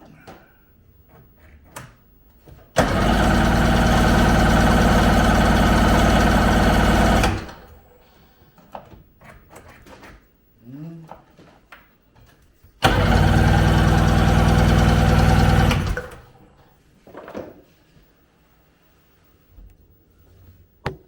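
Seadoo GTX jet ski engine cranking in two long, loud bursts of several seconds each, each ending without catching, with quiet shuffling and faint handling noises in between.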